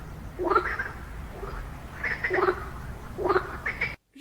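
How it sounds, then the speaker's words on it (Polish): A frog croaks three times in evenly spaced bursts, each a short raspy run of pulses heard clearly against a quiet background. "To była żaba."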